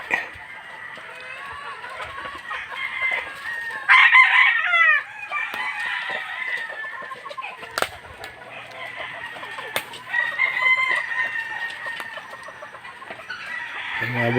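Chickens about four to five months old, white birds on a poultry farm, cluck and crow throughout, with a louder burst of crowing and squawking nearby amid steady background flock noise.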